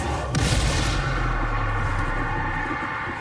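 A Confringo spell explodes in the Hogwarts Legacy video game. It starts with a sharp blast and then a dense, sustained roaring rumble, loud and close, with no voices.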